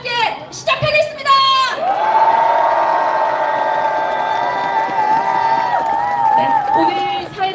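A crowd at an election campaign launch rally in Incheon cheers and whoops, with one long sustained shout riding over the noise, loud and near.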